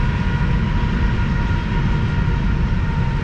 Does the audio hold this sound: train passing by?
yes